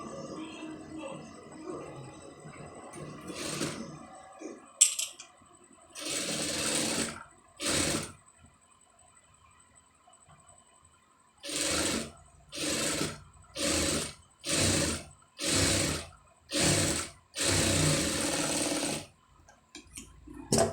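A sewing machine stitches front neck piping on a garment in short repeated bursts, first with a few scattered runs and then a fast regular series of roughly one-second whirs separated by brief pauses, close and clear.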